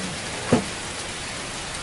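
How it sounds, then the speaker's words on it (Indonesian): Rain falls during a hike on the Nglanggeran ancient volcano, a soft, steady hiss with a faint clatter of drops and one brief knock. "Hujan."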